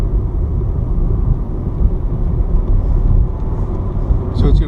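An electric vehicle picks up speed, a steady low road rumble and faint whine from inside the cabin, with a person talking over it.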